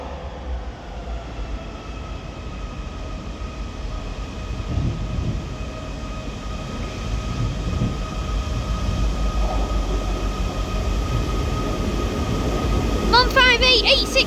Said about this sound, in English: East Midlands Railway service to Norwich, starting here at Liverpool Lime Street with a class 158, doubled up one as well.